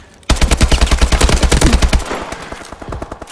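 An AK-12 rifle in Call of Duty Advanced Warfare fires a rapid automatic burst of about two seconds, loud and close, then the shots fade into a ringing tail.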